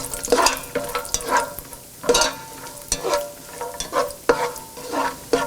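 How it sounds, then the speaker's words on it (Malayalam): Cashews frying in hot ghee in a pan, a steady close sizzle broken by repeated scraping stirs at a regular pace, with no voices. "നെയ്യ് ചൂടായി കഴിയുമ്പോൾ നമ്മൾ എടുത്തു വച്ചിരിക്കുന്ന കാഷ്യൂസ് ഇട്ട് ഫ്രൈ"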